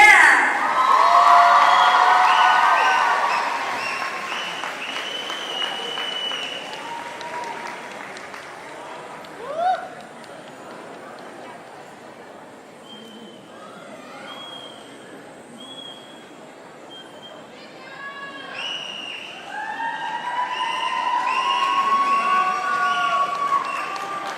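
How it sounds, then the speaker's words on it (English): An audience at a Hmong New Year dance competition in Fresno claps and cheers for the award winners, with loud applause and whoops swelling at the start, fading under talk and shouts, then rising again near the end. "please give a big round of applause for Cai Yexue"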